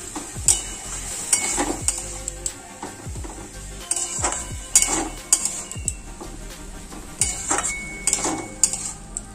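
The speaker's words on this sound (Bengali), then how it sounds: "এবার ভালো করে নেড়ে নিও।" A spoon stirs bottle gourd posto curry in a pan, producing repeated clinking scrapes against the metal in irregular bursts over a faint background sizzle, fairly close and with no talking.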